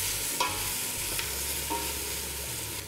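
A steady sizzle of onions sweating in a pan, with a few light scraping stirs breaking through the constant frying hiss.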